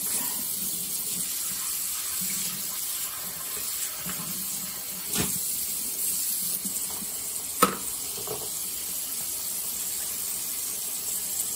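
Tap water runs steadily into a sink while a dish-soap-scrubbed Willow Go part is rinsed, giving a constant hiss with a couple of brief knocks and splashes.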